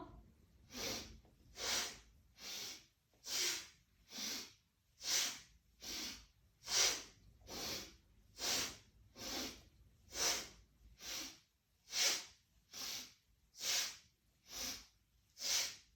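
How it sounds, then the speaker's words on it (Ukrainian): Rhythmic active breathing during a yoga exercise, about twenty forceful nasal exhales in a fast, even pulse, close and alone with short quiet gaps between each breath. "Дихання активне."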